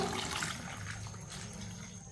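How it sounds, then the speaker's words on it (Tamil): Water pours steadily into a pot of vegetables and small onions for a weight-loss soup, a faint continuous splashing fill with no talk. "இதில் நல்லா தண்ணி ஊற்றிக்கிடுவோம்."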